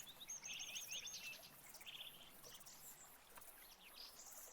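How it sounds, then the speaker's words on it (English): Small birds chirp and trill in bright, repeated bursts in the background of a quiet indoor room, faint and fairly distant, with a soft steady hiss underneath and no talking. "I don't mind the bird song"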